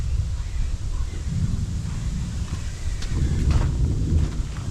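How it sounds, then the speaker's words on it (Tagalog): Dense, constant downpour with a low roar and rumble, steady and loud from start to finish, with no voices. "Malakas na ulan ah. Malakas na ulan to."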